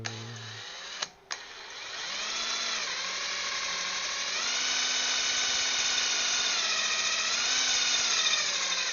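A power drill in a workshop runs with a worn-out, dull drill bit, giving a sustained whining motor drone with shifting pitch after a brief interruption near the start, steady and fairly close.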